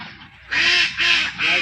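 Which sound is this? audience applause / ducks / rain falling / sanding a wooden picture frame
ducks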